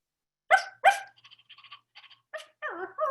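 A person's voice imitates a puppy, giving two sharp yips followed by a string of soft whimpering squeaks and ending with a couple of whiny cries, close and clear.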